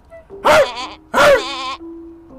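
Two loud, wavering bleats in a row, close by, each with a shaky vibrato, separated by a short pause and trailing into a faint tone.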